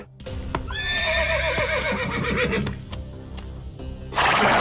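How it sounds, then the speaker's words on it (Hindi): A horse whinnies loudly and long during a stunt on a reality stunt show, then hooves clip-clop with a burst of louder noise at the end, no talking. "मुझे ये नहीं पता था कि यार सैंडमैन पे घोड़े से लटका के ऐसे टांग के उसके साथ घुमाएंगे और ऐसे घसीटेंगे।"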